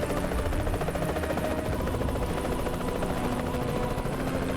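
Helicopter in the video game Earth Defense Force 2025, a steady loud rotor drone with whirring buzz filling the whole stretch without pause.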